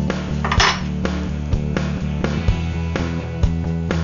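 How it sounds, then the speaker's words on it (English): Repeated metallic clinks and taps as a metal lid knocks against a pot of boiling cioppino in an irregular rhythm, over a low steady background hum. "I'm going to put the lid on sideways"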